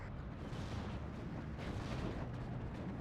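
Off-map artillery fire rumbles in Steel Division 2, a dense, continuous wash of deep booms and blasts, loud and unbroken throughout the short stretch.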